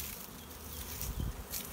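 Honey bee colonies at a nuc in a backyard give a faint, steady buzzing, heard only briefly and quietly with no voices.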